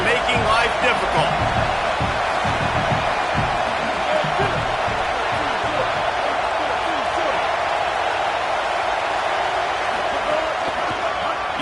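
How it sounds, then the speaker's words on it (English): A home crowd roars steadily at a football game, a loud, continuous wash of cheering and noise held throughout, with a commentator's voice talking over it. "Now this home crowd making life difficult."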